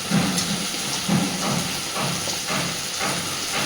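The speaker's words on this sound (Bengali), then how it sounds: "এবার দিয়ে দিচ্ছি কেটে রাখা বেগুন, আর ওই একইভাবে একটু আলুও কেটেছি" Eggplant and potato pieces hiss and sizzle steadily in hot oil with spices, a continuous frying crackle with soft periodic swells.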